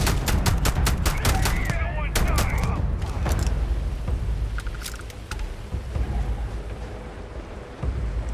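Heavy gunfire in the space RPG Starfield: dense rapid bursts of shots and blasts crowd the first few seconds, then thin into scattered reports and rumbling combat noise.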